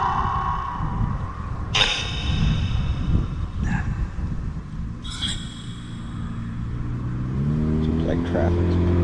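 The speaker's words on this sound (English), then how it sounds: "Seems like traffic." Road traffic passes near a graveyard in New Philadelphia, Ohio, with a car's engine swelling and rising as it goes by toward the end, while muffled voices murmur faintly beneath.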